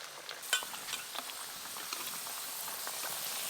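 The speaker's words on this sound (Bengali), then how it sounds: "এই দেখুন কত সুন্দর মুচমুচে হয়ে ভাজা হচ্ছে।" Crispy raw potato snacks deep-fry in hot oil with a dense, bubbling sizzle and a light crackle throughout, close and steady.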